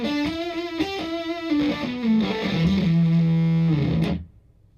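Distorted electric guitar notes through a Z.Vex Fuzz Factory pedal ring out, sliding down into a sustained fuzzy low note that cuts off abruptly.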